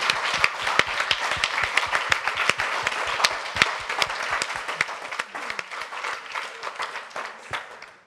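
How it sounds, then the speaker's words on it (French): An audience at a literary prize ceremony applauds the Domitys 2022 prize winner. Many hands clap in a loud, sustained round, with sharp individual claps standing out near the front before the applause thins slightly toward the end. "je vous prie d'accueillir et d'applaudir la lauréate du prix Domitis 2022"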